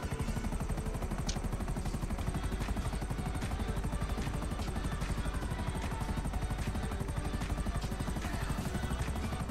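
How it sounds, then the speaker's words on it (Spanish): A helicopter in GTA Online near Los Santos airport gives off a steady, rapid rotor chop over a constant engine drone, loud and unbroken throughout, with no talk. "Voy a coger un helicóptero."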